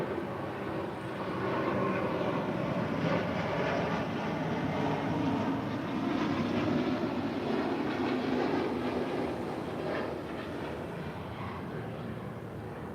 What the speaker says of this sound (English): This is British Airways Flight 282 departing to London Heathrow on an A350-1000